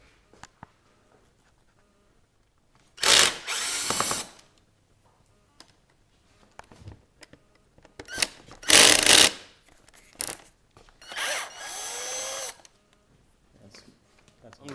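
Bursts of a power tool backing out screws from the top rail of a 1998 BMW Z3 convertible, three main loud whirring runs of a second or two each separated by quiet gaps, close up.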